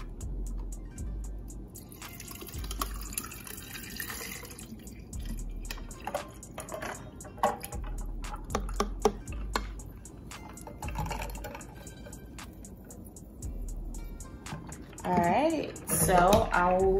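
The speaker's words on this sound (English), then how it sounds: "So I'm gonna go ahead and pour my water into my bottle." Water poured into a Simply Modern Summit water bottle indoors, heard as soft, intermittent trickling and dripping, quiet and close, with a voice speaking over it near the end.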